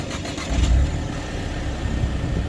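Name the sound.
Mercedes-Benz SLK 200 R171 engine starting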